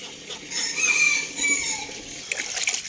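Farm chickens and ducks cluck and crow nearby, a busy mix of hen clucks and rooster calls with a few sharp clatters near the end, and no talk over it.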